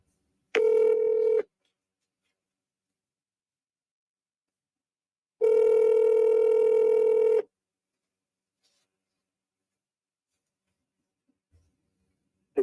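Touch-tone telephone dialing: two bursts of steady electronic tone, a short one and then a longer one about two seconds long, set apart by silence and heard alone without talk.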